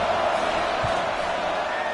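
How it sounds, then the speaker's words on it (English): Stadium crowd at a UCLA at Oregon college football game roars steadily just before a fourth-down field goal attempt, a dense, loud wall of noise throughout. "This crowd trying to do its part to get inside the kicker's head."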